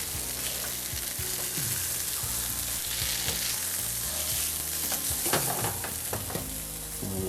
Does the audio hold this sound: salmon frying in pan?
yes